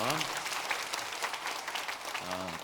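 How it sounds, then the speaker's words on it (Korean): A church congregation claps in encouragement for the choir during a Sunday morning service, a brief even patter of applause, fairly faint, with a voice speaking at the start and end. "우리 시온 찬양대도 한번 격려의 박수 한번 해주시면"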